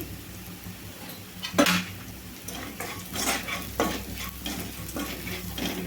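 Spices frying in oil with turmeric and salt for a beans fry, stirred steadily with a metal spoon that scrapes and clinks against the pan over a soft, continuous sizzle.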